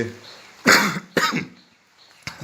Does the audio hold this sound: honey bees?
no